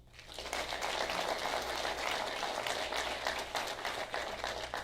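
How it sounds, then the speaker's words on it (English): An audience at an Army aviation AIT graduation ceremony applauds the training cadre, steady clapping from a distant crowd lasting several seconds without speech. "Let's give the cadre a big round of applause."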